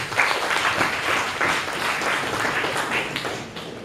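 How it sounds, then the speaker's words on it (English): Steady applause from an audience at a Toastmasters club session, many hands clapping together for several seconds before tapering off near the end. "In fact, give a big clap for them."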